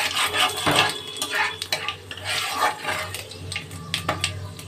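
Panch phoron and a whole dried chilli temper in hot oil, with a crackling sizzle mixed with clattering metal stirring and spoon knocks against the pan, close and busy.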